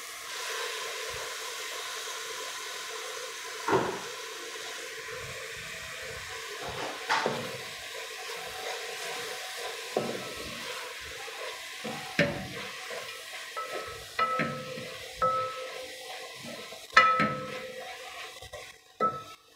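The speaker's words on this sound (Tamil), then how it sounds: "இப்போ மல்லி புதினா போட்டுக்கலாம்." Fresh coriander and mint stirred into vegetable pulao frying in a pan, with steady soft sizzling and repeated scrapes and clinks of a spoon against the pot.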